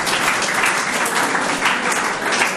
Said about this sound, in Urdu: تالیاں بالکل لگاؤ ان کے لیے تالیاں